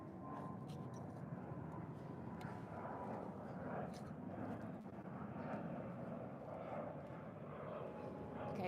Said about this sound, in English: Sorry for the planes.